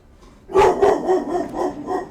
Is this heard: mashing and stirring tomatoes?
no